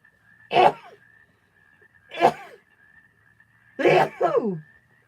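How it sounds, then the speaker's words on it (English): Three separate sneezes ring out one after another with pauses between, close and sharp, over a faint steady tone in the background. "3 sneezes, I'm healthy"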